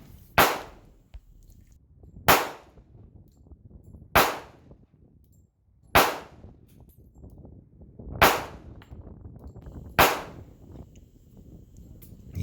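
Six sharp shots from a Rock Island Armory M1911 A1 .45 ACP pistol ring out at an even pace of about two seconds apart, loud and close, each with a short decaying tail.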